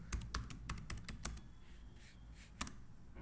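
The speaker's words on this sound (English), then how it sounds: "So I will type here dashboard." Quick bursts of clicks from someone typing on a computer keyboard, fairly close but quiet, with a short pause before one final keystroke and no talking.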